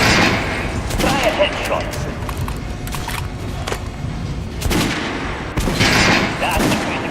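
Repeated gunshots and short automatic bursts ring out in the video game Metro: Last Light while a training instructor targets armor, with sharp loud reports spaced across the stretch and a voice talking between them.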